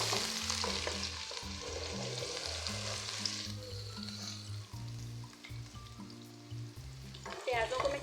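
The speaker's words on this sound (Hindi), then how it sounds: "यहाँ पे जो ऑयल है वो गर्म हो चुका है। अब मैं इसमें डाल देती हूँ प्याज।" Onions hiss as they hit hot oil for a chicken karahi, a bright steady sizzle that is strongest at first and then eases, with low sustained tones running underneath.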